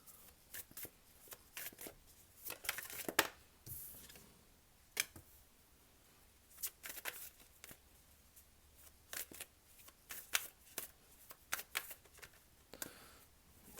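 A Yogic Path oracle card deck is shuffled by hand in a quiet room, giving soft close riffles and flicks in uneven bursts with brief pauses between them.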